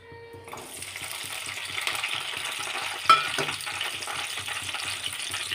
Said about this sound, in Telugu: ఈ పచ్చిమిర్చి మంచిగా ఫ్రై కావాలి కదా